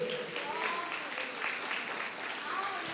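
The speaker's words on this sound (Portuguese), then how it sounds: "Se crê, levante a mão e aplaude ao Senhor nessa noite" Applause from a church congregation praising the Lord during an evening service, steady clapping mixed with voices and a faint tonal background throughout.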